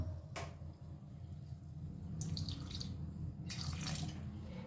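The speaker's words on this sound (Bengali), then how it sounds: "এবারে সামান্য একটুখানি জল দিয়ে দেবো খুবই সামান্য" A small splash of water poured into a pan of fried fish being cooked into a winter-vegetable chorchori, heard as two short bursts of pouring and sizzling over a steady low kitchen rumble.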